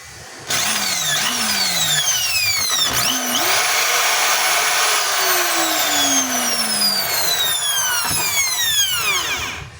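A DeWalt DWD024 hammer drill is test-run, its motor whining loud and close, spinning up and down several times with rising and falling pitch and a brief pause mid-run.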